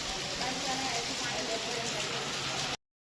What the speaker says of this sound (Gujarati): ખરેખર એટલો વરસાદ પડે ને આમાં આખું ખેતર ભરી ગયું બધી જગ્યાએ